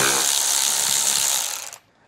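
A ratchet with a 10 millimeter socket removes bolts from a 2022 Jeep during base plate setup, giving a fast, close ratcheting clatter that runs about a second and a half and then stops abruptly.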